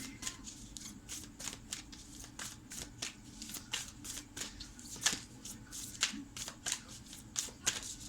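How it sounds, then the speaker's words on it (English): A deck of Divine Feminine oracle cards is shuffled by hand in a steady run of crisp, rhythmic riffling bursts, close and clear, with no talk over it. "I'm gonna pick two oracle cards for Virgo"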